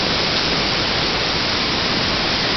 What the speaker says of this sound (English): if you go down to the creek